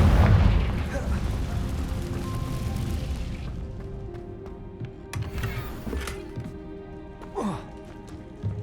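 A Confringo blasting spell in the Hogwarts Legacy video game goes off as a loud, booming explosion that rolls away into rumbling debris and smaller pops.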